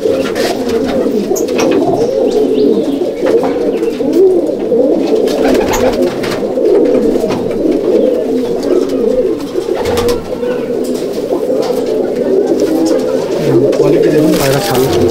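Black male pigeons coo steadily at a home pigeon loft in Halisahar, a dense, continuous chorus of overlapping low calls close by, filling the whole stretch without a break.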